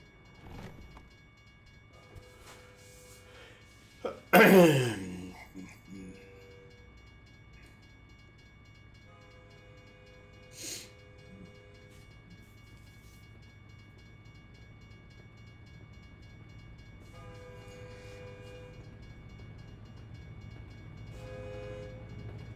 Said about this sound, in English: Whoa, train coming.